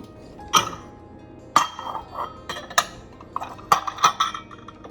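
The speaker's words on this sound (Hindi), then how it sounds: "this is my tip number 2 which is री रैक योर ड्राई यूटेंसिल्स" Dry utensils and dishes are re-racked in a kitchen dish rack, producing a series of sharp metallic and glassy clinks spaced irregularly over several seconds, close by with a quiet background.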